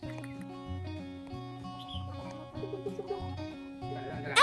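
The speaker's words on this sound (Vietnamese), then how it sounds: "Thấy gà đó." Chickens clucking in a steady, repeated pattern of short calls close by, with a low background drone and a louder burst at the very end.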